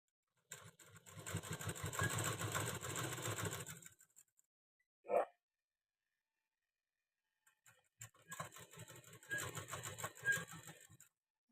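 Sewing machine stitching a blouse in two steady runs of rapid mechanical chatter, separated by a pause with a single short clack, close and moderately loud with no talking.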